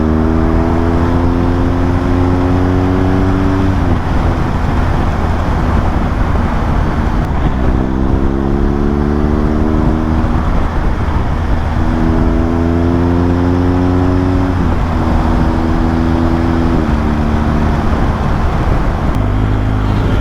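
A motorcycle rides along steadily with its engine humming and rising and falling in pitch through repeated gear changes, loud and continuous throughout.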